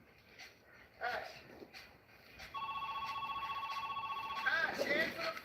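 A telephone rings in a steady, continuous electronic trill lasting a couple of seconds, fairly close, with a few footsteps and scuffles before it and a voice shouting over the end.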